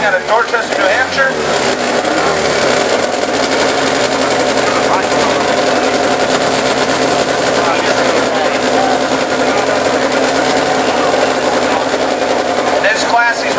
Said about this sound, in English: In this class, he's riding a Yamaha XS800 on nitromethane.